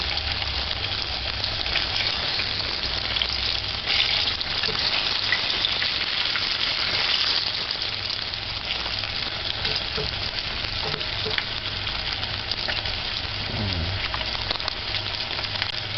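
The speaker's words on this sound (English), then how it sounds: "The frying is getting less." Continuous loud sizzling of food frying in a pan, steady and close throughout with occasional faint scraping.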